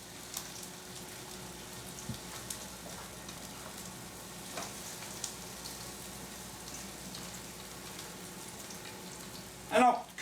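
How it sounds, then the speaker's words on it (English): Food gently sizzles and fries in pans over low heat, a faint, steady crackle with a few soft pops and a brief clatter near the end. "Nice little sizzle."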